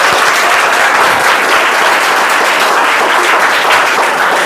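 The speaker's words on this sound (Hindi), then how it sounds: "ताली बजाओ, ताली बजाओ" Students applaud at a school prize distribution, a loud, dense, steady burst of many hands clapping together that carries on without pause for several seconds, close by and filling the room with no talking over it.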